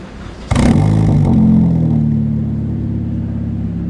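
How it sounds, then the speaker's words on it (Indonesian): A Honda Jazz (GK5) with an aftermarket exhaust starts with a sharp bang and rises into a loud, close, bassy rev, then settles to a deep steady drone, with no talking. "kita langsung aja cek sound suara knalpotnya nih cuy"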